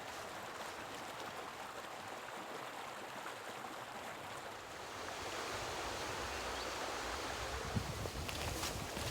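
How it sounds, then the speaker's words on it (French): A mountain stream rushes below a hiking trail near a spring in the Chastreix cirque in Auvergne. Its steady, full hiss of flowing water runs throughout and grows slightly louder midway. "il y a le ruisseau qui passe en contrebas"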